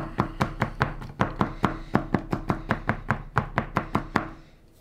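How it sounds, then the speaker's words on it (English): A knife rough-chops anchovy on a cutting board in about twenty quick, evenly spaced taps that stop near the end, with no one speaking. "So to start, I'm just going to give it a rough chop."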